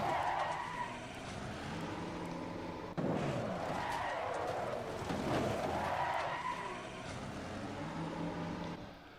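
Racing car engines roar in the video game Assetto Corsa Competizione at Misano, with squealing tires and a sudden hard impact into a Lamborghini partway through, the engine noise continuing loudly afterward.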